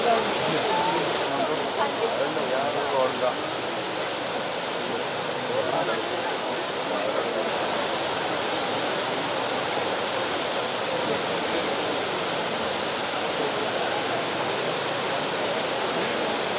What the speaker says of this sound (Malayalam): മണലിപ്പുഴയിലേക്കാണ് ഈ വെള്ളം ഒഴുക്കുന്നത്